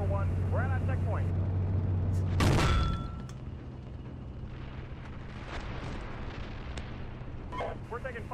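A military video game battle: one heavy, close blast booms out early, followed by a long rumbling, noisy battlefield backdrop with scattered fainter reports.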